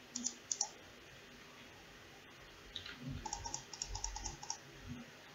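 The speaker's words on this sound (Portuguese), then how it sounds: "E eu estou com a outra mão no teclado, naquelas teclas que eu falei." Soft clicks and key taps as W, A, S and D are pressed on a keyboard while a mouse clicks, scattered bursts with a quiet gap in the middle, close and light with no talk.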